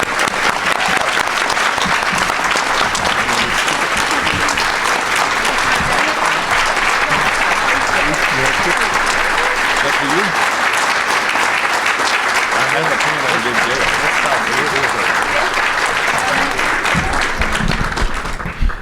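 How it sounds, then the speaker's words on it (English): An audience at a Rotary district conference gives sustained, loud, even applause, a dense wash of many clapping hands lasting the whole stretch and ending abruptly. "Give them a round of applause."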